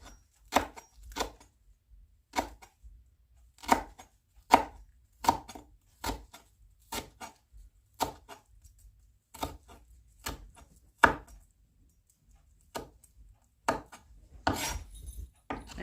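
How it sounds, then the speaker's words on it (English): Knife chopping basil on a cutting board for a white bean salad, about two dozen sharp, crisp knocks in uneven bursts, some quick doubles, with short pauses between, close and clear, no talking. "And then I like to cut down the center of the basil. Just to cut all of it in half. And then just chop it."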